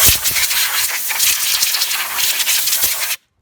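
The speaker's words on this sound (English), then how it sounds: "I'm just gonna use some compressed air to blow off" Compressed air from a shop compressor blasts dirt and rust off front disc brakes: a loud, steady, close hiss lasting about three seconds, then cutting off abruptly.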